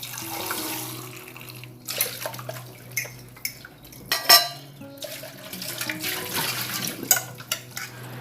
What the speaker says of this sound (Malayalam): അപ്പം തന്നെ പാത്രങ്ങൾ കഴുകി വയ്ക്കുക.